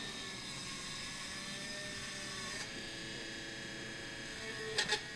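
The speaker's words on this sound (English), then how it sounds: "I usually start with my largest round dental burr. And I start making holes into the object." A micro rotary hand tool fitted with a large round dental burr drills holes into an object, giving a faint, steady high-pitched whine with a couple of brief scraping spikes near the end.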